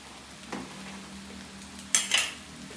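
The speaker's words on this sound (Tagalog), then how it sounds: "Haluin ulit natin." Spaghetti sauce ingredients are stirred in a pan, heard as a quiet, continuous sizzle broken by a few close scraping strokes of a utensil against the pan, with two louder scrapes near the end.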